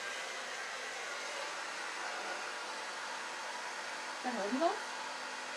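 Hair dryer blowing steadily on its medium temperature setting, a constant airy whoosh that fills the whole span at a fairly quiet level, with a brief spoken question near the end.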